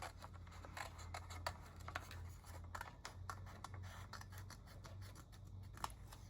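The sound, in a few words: scissors cutting paper along a pencil line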